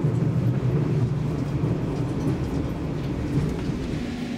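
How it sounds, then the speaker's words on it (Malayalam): A train pulling to a stop at Lucerne station in Switzerland gives a steady, heavy low rumble throughout, loud and continuous, with no voices. "ട്രെയിൻ നിന്നതേ ഞാൻ ചാടി ഇറങ്ങി."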